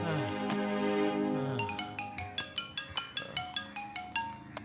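A mobile phone ringtone for an incoming call plays fairly softly: a melodic tune first, then a run of bright, evenly spaced chiming notes repeating in a steady rhythm.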